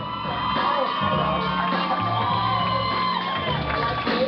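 A comedy show audience in Longview whoops and cheers, a steady roar of crowd noise with shouts rising above it throughout.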